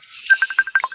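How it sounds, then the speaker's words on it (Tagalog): A telephone sounds a quick series of short electronic tones for an incoming call, clear and fairly close, with no voices. "Si Marivic na silang nanawag, no"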